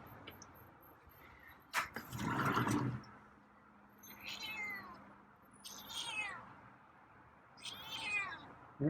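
A feral cat named Scruffy meows several times in short, rising calls spaced a second or two apart, close and fairly clear, after a brief louder rustle near the start.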